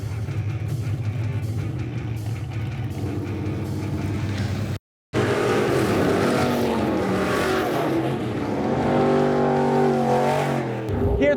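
Race cars roar around West Texas Raceway, engines loud and revving with rising and falling pitch. A brief moment of silence cuts in partway through before the motors surge again close by.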